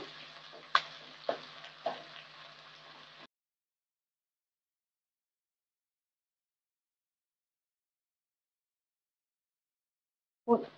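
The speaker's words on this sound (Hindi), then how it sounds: "इसको ब्राउन होने तक भून लेंगे" Onion for a yam curry fries in a pan with a soft, close sizzle and a few sharp stirring knocks. After about three seconds it cuts to silence, then a brief rustle comes at the very end.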